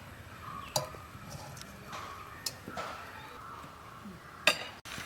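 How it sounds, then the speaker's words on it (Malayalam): A cooking pan is set down on a lit stove while moringa leaf soup is being made, giving a few sharp metallic clinks and knocks over a quiet kitchen background. "ഇപ്പം കത്തിച്ച് നമുക്ക് അതിനെ മുകളിലേക്ക് ചട്ടി വെക്കാം"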